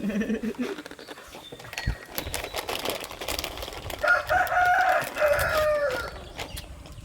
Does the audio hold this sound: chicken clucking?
yes